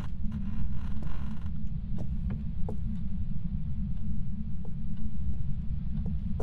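Door creaking inside a haunted house in the Phasmophobia ghost-hunting game, faint creaks and short clicks over a steady low hum with no talk.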